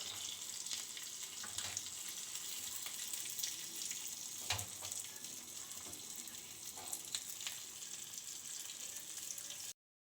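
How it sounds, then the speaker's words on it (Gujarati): Dry fruits drop into hot ghee for a tempering, and a steady close sizzle of frying runs throughout with a few brief clinks and stirs; no one speaks. "આ ડ્રાયફ્રૂટ આમાં નાખી દેવાનું ઘીમાં વઘારમાં"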